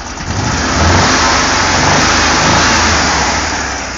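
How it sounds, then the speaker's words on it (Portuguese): A 1997 VW Kombi Carat engine running with a loose cylinder head, a loud, close, steady revving roar that swells slightly and holds, with no talk over it. "Barulho do cabeçote, tá? Cabeçote solto, ó."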